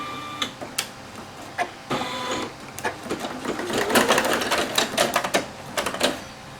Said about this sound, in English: it's going to do the placement stitch right on this stuff